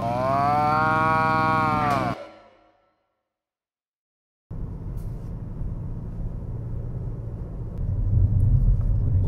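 A cow on a farm gives a long, loud, close moo, followed by a pause and then steady rumbling background noise.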